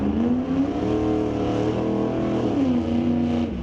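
Drag race cars including a 1972 Chevelle at Mission Raceway Park, engines revving with rising and falling pitch, loud and sustained as the cars accelerate down the strip.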